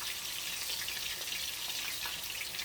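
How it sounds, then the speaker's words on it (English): Fish fries in a pan until crispy and golden, giving a steady, quiet hiss and crackle of hot oil that runs evenly throughout with no talk. "So I'm going to let it fry until it's nice and crispy."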